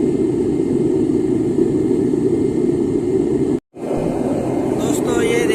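A furnace used for melting iron and mica roars with a loud, continuous jet-like blast that cuts out abruptly for a moment before resuming, heard up close.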